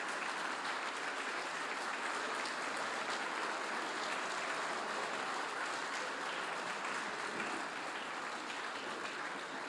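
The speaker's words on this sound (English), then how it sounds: "give a roaring applause to all the presenters tonight" Sustained audience applause fills a hall after a city's State of the City address, a dense, steady wash of clapping from many hands that holds at an even level throughout without talk.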